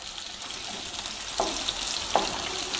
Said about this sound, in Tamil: இப்போ வெங்காயம் போட போகிறோம், வெங்காயம் மட்டும் போட போகிறோம்